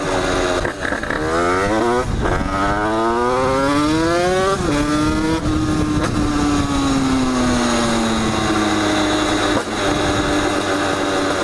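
A motorcycle carrying two riders accelerates hard close by, its engine note climbing in pitch through gear changes before settling into a long, loud, slowly falling drone.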